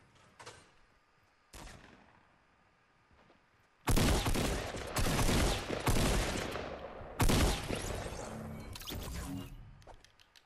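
Bursts of video game gunfire during a duo battle royale match: faint scattered shots at first, then loud sustained volleys of rapid automatic fire in several dense waves close by, with no talking.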